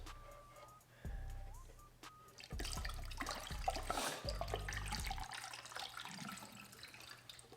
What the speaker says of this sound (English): You want to be able to fill this entire reservoir up so that it fills up with distilled water